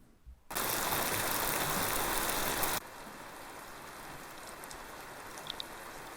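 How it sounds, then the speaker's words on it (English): Rain falling on open water, picked up by microphones above and below the surface: a short dense burst of loud, hissing rain on the water gives way to a quieter, steady patter with a few distinct drops near the end. "you can hear the rain intensifying."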